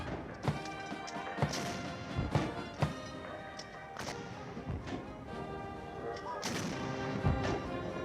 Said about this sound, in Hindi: इसके बाद राष्ट्रगान और 21 तोपों की सलामी दी गई